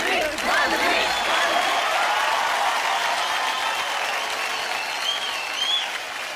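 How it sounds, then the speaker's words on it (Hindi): Studio audience applause on the Indian Idol Season 13 stage: dense, sustained clapping from a crowd that holds steady throughout, with faint cheers mixed in. "तालियां"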